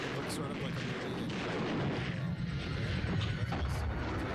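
Gunfire and heavy blasts from the horror movie Demon Wind form a dense, continuous barrage with rumbling booms, loud and unbroken across the whole stretch.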